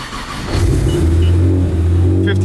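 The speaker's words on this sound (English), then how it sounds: "1500 horsepower car starts up pretty easy, I'm not gonna lie." A 1500-horsepower Nissan GT-R engine running on E85 cold-starts with a quick crank, then catches into a loud, deep, steady idle rumble, close up and with no talk over it.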